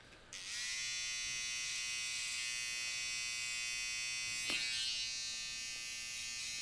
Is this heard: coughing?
no